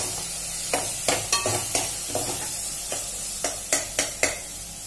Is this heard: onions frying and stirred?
yes